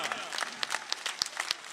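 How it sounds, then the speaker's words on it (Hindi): Crowd at a political rally claps for Mohan Yadav with scattered, uneven hand claps and distinct sharp individual claps, while a voice speaks over the applause. "मोहन यादव जी के लिए जोरदार तालियां, शानदार तालियां,"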